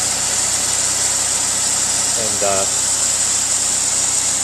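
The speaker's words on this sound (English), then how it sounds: "What I'll do is I'll run the car, checking the temperature gauge," A Saab 9-3 engine idles with a steady, even hum and hiss throughout, while a voice speaks briefly over it midway.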